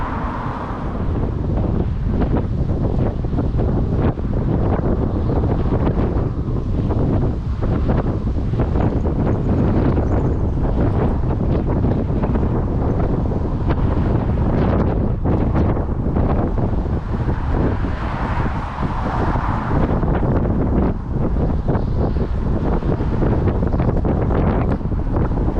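Strong wind buffets the microphone beside a harbour during saltwater bass fishing with ragworm bait. The rumbling gusts roar loudly and continuously for the whole stretch, and nobody speaks.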